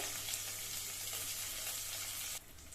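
Chopped tomato sizzles in hot oil with browned onion, a steady loud frying hiss that drops slightly near the end, with no talking.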